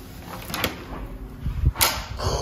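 An interior door swinging open during a walk through a home, with a few close clunks and rattles of the latch and hinges, the loudest knock near the end.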